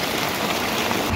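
Heavy rain pouring in a mountain area during days of nonstop downpour, a steady dense hiss of water falling close by with no break and no voices.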